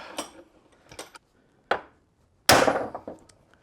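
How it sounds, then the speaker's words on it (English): A hammer taps at a front steering part on a Toyota Celica RA23 during teardown, giving a few sharp, separated metallic knocks spaced irregularly, with one louder ringing strike near the end, in an otherwise quiet workshop. "I might just be able to tap it out with the hammer now"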